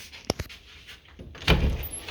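A cheap upcycled wooden door on a small off-grid greenhouse makes two quick knocks, then a louder scraping rattle as it swings or shuts, close by with faint outdoor background and no talking.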